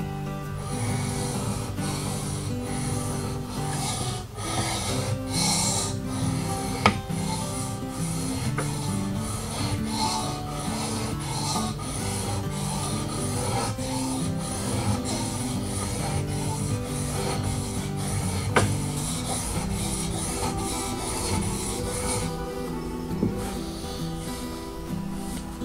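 Steel blade being sharpened on a 1000 grit whetstone, a steady rhythmic rasping scrape of back-and-forth strokes at a constant angle, close and continuous throughout with no speech.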